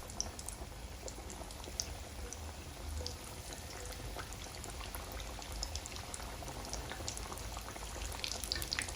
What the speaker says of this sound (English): So you're going to fry our mandazi in a medium heat